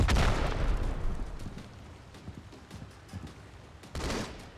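Gunfire crackles in Halo 2: Anniversary during a team doubles match on the Shrine map, bursts of shots and impacts near and far, loudest at the start and again near the end.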